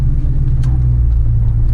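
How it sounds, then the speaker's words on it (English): A Ford Mustang Cobra with its 4-valve 4.6 V8 breathing through a Flowmaster exhaust holds a loud, steady, deep rumble close by, with no voices over it. "You get the RPMs up and this car starts to really pull."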